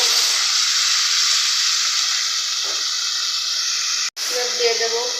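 Ground ingredients dropped into hot oil for a taki fish curry give a loud, steady hiss that runs continuously, with a short break partway through.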